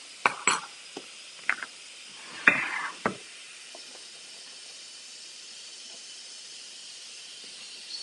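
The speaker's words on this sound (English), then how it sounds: "You can see that the steam is coming out." An Instant Pot releases pressure in a kitchen, sending out a soft, steady hiss of steam after a few louder sputtering bursts and clatters at the start.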